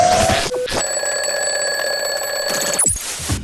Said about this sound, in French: Vous l'avez entendu, c'était votre son de votre réveil matin